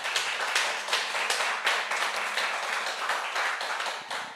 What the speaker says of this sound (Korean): 다시 한번 감사의 박수